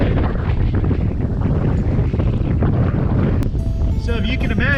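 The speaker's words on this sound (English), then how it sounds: "just so that you can hear just how windy it is" Heavy wind buffeting the microphone at a boat mooring field in a constant low roar and rumble, with a brief high tone and faint voice near the end.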